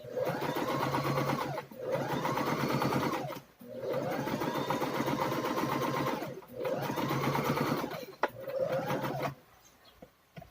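A Singer M1505 portable sewing machine runs in four steady stitching bursts of about two seconds each, separated by short pauses and followed by a fifth shorter run before it goes quiet, loud and close with no talking.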